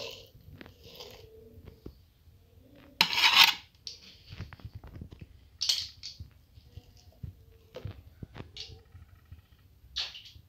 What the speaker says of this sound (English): Now we cut them this way.